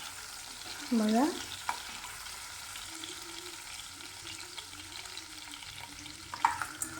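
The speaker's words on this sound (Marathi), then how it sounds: "बघा, हे सर्व क्यूब मी तळून घेत आहे। छान लालसर असे पनीरचे क्यूब तळून घ्यायचे आहे आपल्याला।" Paneer cubes fry in a pan for restaurant-style matar paneer, giving a steady soft sizzle with occasional stirring scrapes; a voice says one brief word early on.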